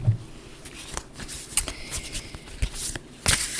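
A deck of tarot cards being shuffled by hand, close and crisp, with irregular riffling bursts and soft slaps over a few seconds, no talking.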